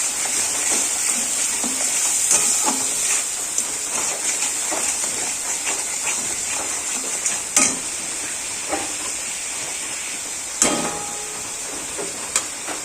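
Dried chili, cumin and coriander powder sizzle in a hot pan, a soft continuous frying hiss broken by occasional scraping stirs and clinks of the utensil.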